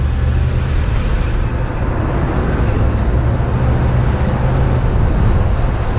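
An old El Camino drives with no windshield fitted, giving a loud, steady low rumble of engine and road noise mixed with constant wind buffeting throughout, with no voices.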